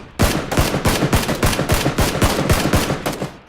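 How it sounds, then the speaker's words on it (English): Rapid automatic gunfire in the video game PUBG, a steady string of about a dozen loud, evenly spaced shots rattling off without pause and no talk over it. "Someone else firing at us now."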